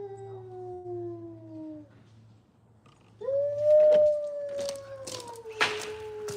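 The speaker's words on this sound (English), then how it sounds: "They have the cutest little howls." Foxes at an exotic animal rescue let out long, wavering, high howls: one drawn-out call that fades, then a second rising howl. A low steady hum and faint background sounds run underneath.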